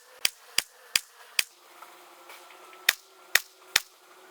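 Seven sharp gunshots fired one-handed with the left hand during shooting practice, four in quick succession, a pause, then three more, loud and close with a faint background hum.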